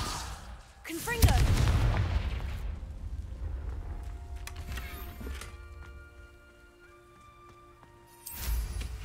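Spell blasts boom and crackle in the Hogwarts Legacy video game, one heavy explosive burst followed by rumbling combat effects and a second impact near the end, with a voice calling spell names.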